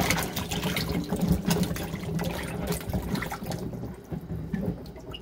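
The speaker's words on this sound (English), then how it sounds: "I'm cleaning my vegetables." Kale and other garden vegetables being swished and rinsed in a sink of vinegar water, with splashing, trickling and sloshing that stays close and moderately loud, easing toward the end.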